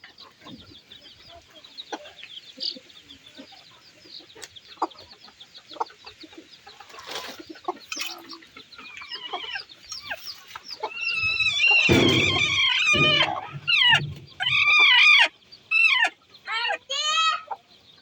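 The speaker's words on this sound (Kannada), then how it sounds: "ಇವನ್ನ ಉಷ್ಟು ಕೋಳಿನ ಒಂದೇ ದಿನ ಇಟ್ಟಿದ್ದೀನಿ ರೀ" Hens cluck and squawk in a poultry enclosure, starting as faint scattered chatter and then breaking into loud, close bursts of cackling in the second half. Background voices are faintly audible.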